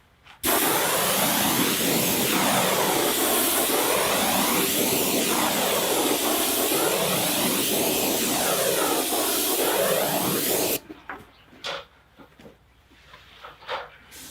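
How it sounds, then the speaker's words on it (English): A paint sprayer held six to eight inches from wooden fence pickets hisses steadily while spraying stain, a loud continuous airy rush with slow swelling sweeps, cutting off abruptly near the end to leave faint handling noises. "While spraying, I'm actually keeping my tip and guard probably about 6 to 8 inches from the fence"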